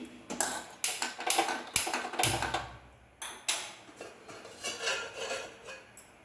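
A pot of taro is set on a stove to boil, with a run of clinks and knocks of metal cookware and utensils, several sharp clatters close by and no talking.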